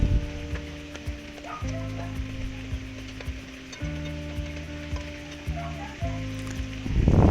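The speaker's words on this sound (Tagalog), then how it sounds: "Igisa na nato ang ahos." Garlic and ginger sauté in hot oil in a pan, a continuous close sizzle layered over a strong steady hum, with small clinks and scrapes of stirring and no talking.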